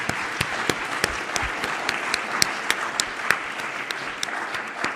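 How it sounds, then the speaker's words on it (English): Sustained audience applause for a conference panel, dense and steady throughout with sharp individual claps standing out near and far, no voices over it. "And a big round of applause for this very good panel."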